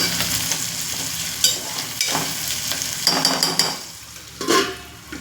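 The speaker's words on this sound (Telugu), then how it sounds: "ఫ్రెష్గా దంచుకున్న అల్లం వెల్లుల్లి వేసుకుంటున్నానండి" Freshly crushed ginger and garlic sizzle loudly in a hot pan for an egg and tomato pulao, with steady frying crackle and several scraping stirs.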